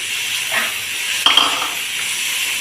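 Macaroni and vegetables stirred in a hot pan, a soft steady sizzle under scraping strokes with a brief clink of utensil against metal midway.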